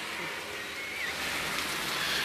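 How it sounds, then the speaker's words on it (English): Heavy rain pours down outside in a steady, soft hiss that swells slightly toward the end, heard from a distance with no voices. "It's raining hard at this moment."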